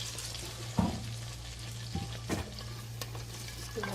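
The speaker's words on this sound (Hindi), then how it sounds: "अब इसके अंदर शामिल करेंगे सरसों के साग।" Mustard greens sizzle and fry in melted butter in a hot pan while being stirred, a steady close crackle broken by a few clanks and scrapes of the spoon, with no talk.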